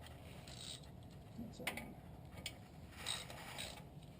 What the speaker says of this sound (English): we're just tightening it with a 17 millimeter